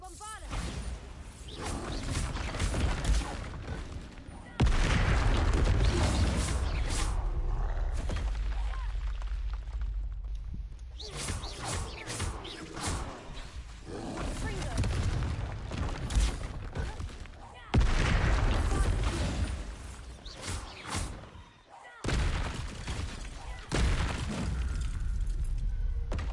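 Repeated loud blasting-spell explosions in the video game Hogwarts Legacy, heavy booming bursts with whooshes and crashing debris coming in several waves over about twenty-five seconds, with brief lulls between blasts.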